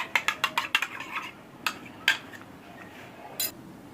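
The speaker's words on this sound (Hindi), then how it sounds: "अब हमने इसकी अच्छे तरीके से मिक्सिंग करनी है ताकि जो कॉर्नफ्लावर है वो अच्छे तरीके से मिक्स हो जाए।" A spoon stirs chicken corn soup thickened with cornflour in a pot, giving a quick run of close metallic clinks and scrapes at first, then a few scattered knocks against the pot.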